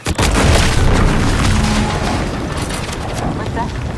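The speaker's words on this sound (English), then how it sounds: "An explosion." A loud explosion booms in The Outer Worlds 2, a sharp blast at the start followed by a sustained roaring rumble and debris crackle that slowly fades over several seconds.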